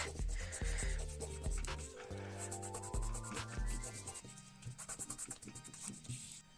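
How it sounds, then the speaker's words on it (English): Packing tape being rubbed firmly by hand on a desk to activate its adhesive, with steady squeaky friction strokes repeating close by for several seconds, a few knocks from the moving desk mixed in. "I want to activate the tape adhesive, so I'm gonna rub on it"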